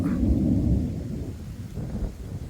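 A deep, low rumble of thunder rolls through steady rain, loud at first and then fading somewhat, with no voices.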